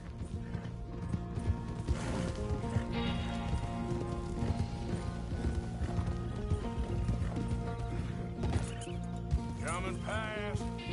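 Horse hooves clip-clop in the video game Red Dead Redemption 2, a steady walking rhythm under game music, with brief voices and a horse snort near the end.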